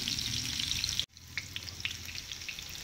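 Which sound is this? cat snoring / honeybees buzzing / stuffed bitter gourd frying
stuffed bitter gourd frying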